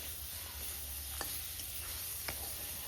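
Thinly sliced potatoes frying with turmeric and salt in a pan for Bengali fish curry, heard as a steady close sizzle with a couple of brief utensil clicks.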